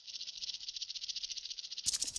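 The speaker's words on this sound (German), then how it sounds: "wenn Sie dieses Geräusch wahrnehmen, dann sollten Sie sich in Acht nehmen, denn das ist ja das Schwanzende einer Klapperschlange" A rattlesnake at a snake farm shakes its tail in a fast, steady buzzing rattle, close and continuous, ending with a sudden louder burst of noise.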